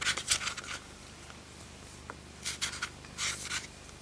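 Metal cutters pressing and scraping through rolled sugar paste to shape orchid petals: soft, close scratchy rasps in three short bursts with quiet pauses between, no talking.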